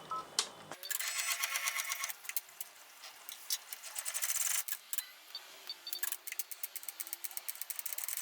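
An embroidery machine stitches a placement line in a rapid, close, steady mechanical patter of clicks and whirring that starts after a brief pause and runs with short stops.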